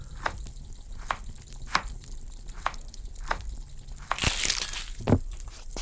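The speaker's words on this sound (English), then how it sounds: "Cut the meat and add it to the pan." Alien meat is cut and dropped into a pan in a starred-cuisine cooking game. Sharp, spaced crunchy taps lead into a brief loud burst of sizzling frying, then a final thump, with no talking.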